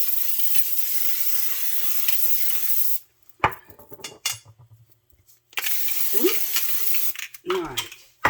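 Cooking spray hisses into a 9 by 13 baking pan in a steady broadband burst of about three seconds, then a second shorter spray after a pause, with soft clinks and handling sounds in between.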